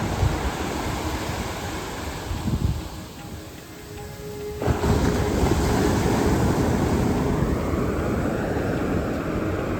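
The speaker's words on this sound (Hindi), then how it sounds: "ये रहा समुद्र का लहर" Sea waves wash onto the shore at Somnath with a constant loud, broadband rush that swells, dips briefly and surges back, with no one talking.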